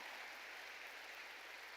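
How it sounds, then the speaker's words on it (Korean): Church congregation clapping together during a sermon, a dense, even patter of many hands heard from a distance at low level without a break. "깨달은 사람만 박수 치라고요."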